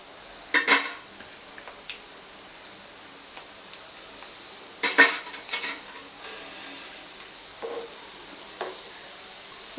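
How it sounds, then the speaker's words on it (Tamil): Yeast donuts fry in a pan of oil, a quiet continuous sizzle broken by two sharp clatters of utensils and a few lighter taps. "இதை வந்து நம்ம இப்போ ஃப்ரை பண்ணிக்கலாம்."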